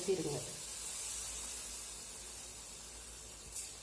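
Sweet batter of sugar, coconut, roasted gram and cardamom poured into a hot pan on a low flame, giving a soft steady hiss and sizzle with a brief splash at the start.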